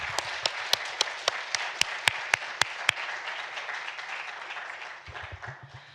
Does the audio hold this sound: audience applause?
yes